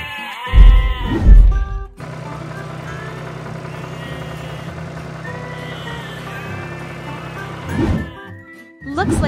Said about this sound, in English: Looks like the sheep are very excited.